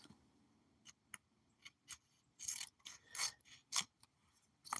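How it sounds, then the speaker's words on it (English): Scissors cutting a paper mailing label in half, with a series of short crisp snips and papery rustles close by, sparse at first and then quicker, quiet and with no talk. "I'm going to cut it in half."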